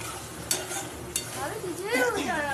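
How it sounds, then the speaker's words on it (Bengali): Chicken being sautéed with masala in a pan, with a steady low sizzle and a couple of sharp scrape or stir clicks from a utensil, close and moderately quiet. "আর এটা একটু ভালো করে কষিয়ে নেবো"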